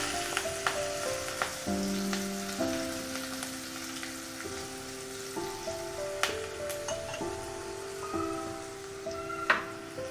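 Mustard seeds, asafoetida and green chilies crackle and sizzle in hot oil for a Gujarati tempering poured over white dhokla. A steady close sizzle with scattered pops runs under soft background music.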